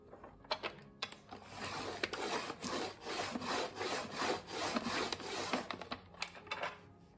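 Pencil drawing lines on paper while making a folded paper gift pouch, a series of close scratchy strokes with short pauses between, with no talking.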